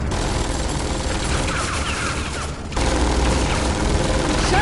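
Automated turrets fire rapid bursts in Tales from the Borderlands, a loud, dense clatter of gunfire that dips briefly and then resumes at full intensity.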